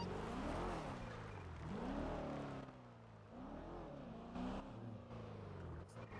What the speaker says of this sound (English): It's a very busy road, as you can hear.